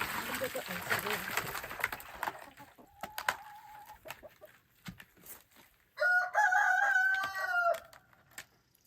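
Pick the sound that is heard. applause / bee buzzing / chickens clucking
chickens clucking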